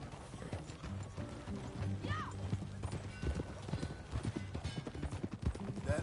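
Horse hooves clip-clop at a steady walking pace in the Red Dead Redemption 2 video game, with a brief whinny and faint mechanical creaks. Low ambient music plays underneath.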